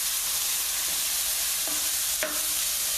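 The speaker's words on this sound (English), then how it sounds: "Now look how quickly that meat kind of browns, and it smells like it was put on the grill outside" Chorizo and beef browning in a pan over high heat, a continuous loud sizzle with a couple of brief scraping stirs near the end, no voices.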